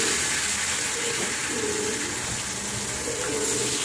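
Eggplant slices frying in hot oil in a small wok, a steady close sizzle and hiss running throughout with no break.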